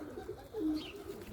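A single soft coo from a racing pigeon in a loft, low and brief, against faint outdoor background noise.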